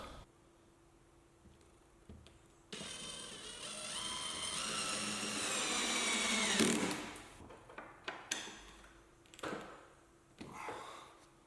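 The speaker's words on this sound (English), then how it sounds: "sinking another drywall screw to make sure that we've got that proper connection between the plasterboard and the joist" A power drill drives a drywall screw through plasterboard into a joist: a rising whirr lasting about four seconds, then several sharp clicks and taps as the bit settles.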